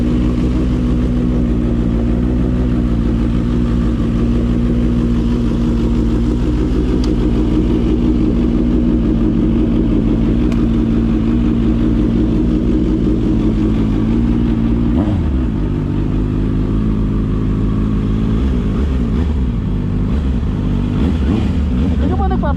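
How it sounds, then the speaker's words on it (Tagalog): A motorcycle engine idles steadily at close range while warming up at a motorcycle expo in Tagaytay, Philippines, with a low throbbing rumble, slight revving near the end, and voices talking over it. "Hindi ka ba nagpapainit ng motor?"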